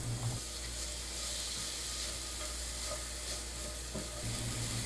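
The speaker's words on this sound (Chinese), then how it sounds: "锅子加热，加入适量的奶油， 放入洋葱，快速拌炒到变色。" Onion stir-frying in butter in a heated pan, a steady close sizzle running the whole time with faint stirring scrapes and no talk.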